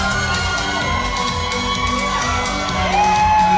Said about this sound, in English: did not like that response from the crowd, so he wants another one